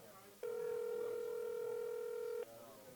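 A telephone call ringing through a speakerphone, one steady two-second ringback tone heard faintly over room noise, with no speech during the ring.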